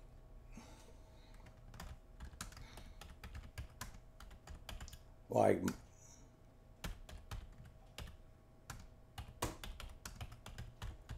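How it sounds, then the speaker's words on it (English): Someone types on a computer keyboard, giving a steady scatter of soft, close key clicks over about eleven seconds, briefly interrupted by a short voice sound midway. "So he sees, he thinks you're typing."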